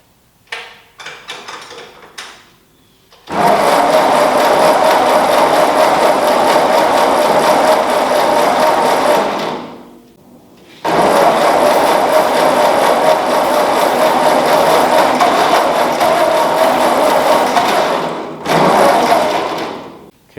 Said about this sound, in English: I think we are good to go ahead and try to start this thing